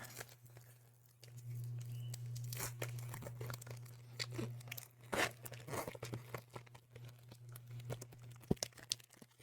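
Trading card booster packs for a Fabled set are torn open by hand, giving a run of close, crisp foil rips and crinkles with sharper bursts near the end, over a steady low hum.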